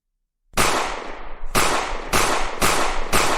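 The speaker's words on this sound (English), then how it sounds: "we have the gun shooting bullets with both sound and animations effects" Gun sound effect from a Godot 2D shooting game, five sharp loud blasts after a short silence, each with a short decaying tail, spaced about half a second apart.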